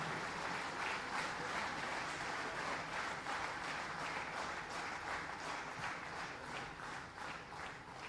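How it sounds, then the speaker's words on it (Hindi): A stage audience gives athlete Prachi Yadav a dense, sustained round of applause, with steady crowd clapping lasting throughout and no one speaking over it. "जोरदार तालियों से आइए इनका अभिनंदन करें।"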